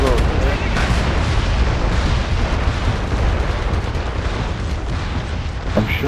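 An artillery fire mission pounds away in the PS3 online shooter MAG, a continuous roar of heavy booms and rumbling blasts that stays loud throughout, with a voice talking over the barrage.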